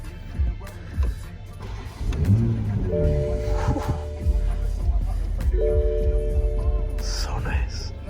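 2020 Toyota Supra GR pulling away, a low engine rumble with a couple of rising whines over a steady road hum, heard from inside the cabin while people talk quietly.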